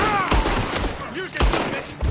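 Gunfire in Red Dead Redemption 2, set at Armadillo: a few sharp shots crack out over a busy game soundscape with speech nearby, the blasts coming in quick separated bursts rather than a steady stream.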